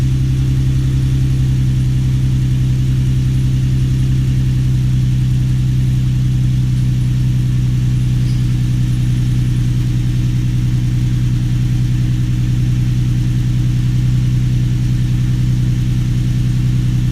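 A Toyota Supra engine idles loudly and steadily up close, a continuous low rumble that holds for about seventeen seconds with no talk.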